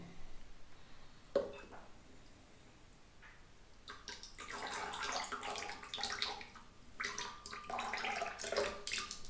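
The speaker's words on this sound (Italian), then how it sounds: "Questa è l'acqua che trattiene, ok?" Water running and splashing from a wet badger-hair shaving brush as it is squeezed out, soft dripping that grows into a louder, uneven trickle with irregular surges, heard up close with no talking.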